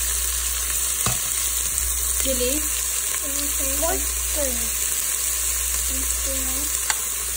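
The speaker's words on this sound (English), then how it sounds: "So first you put the onions and chili in the instant pot." Onions and chili sizzle steadily in an Instant Pot, a continuous close hiss that carries throughout, with a few faint tonal voice-like sounds in the background midway.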